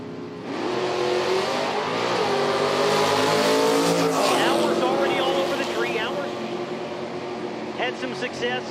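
A 1990 Corvette with an automatic transmission in stock-class drag racing qualifying at an IHRA Outlaw Nitro Series meet roars loudly, its engine note climbing and then easing off as it runs, with an announcer talking over it.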